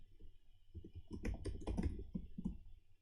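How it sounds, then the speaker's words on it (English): Typing on a computer keyboard, a burst of close, crisp key clicks in quick irregular runs with brief pauses, fairly quiet, with no talking. "Might help if I hit the right keys on the keyboard."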